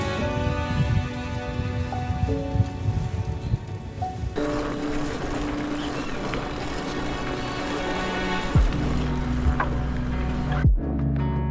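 A boat engine drones steadily over Nicaragua's Lake Nicaragua toward Ometepe island, a low mechanical hum with tonal whine and rushing spray, shifting pitch near the end.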